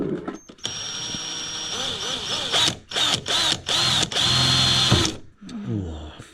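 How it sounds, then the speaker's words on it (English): A cheap power drill whirs in several short bursts of varying length, close and fairly loud, with pauses and ratcheting clicks between runs during an underglow installation. "it's the cheapest fucking drill"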